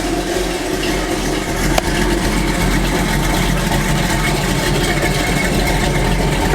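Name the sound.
car engine idling with Edelbrock AVS2 carburetor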